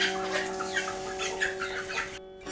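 A rooster crows in one sustained, close, ringing call lasting about two seconds, heard on its own with no talk.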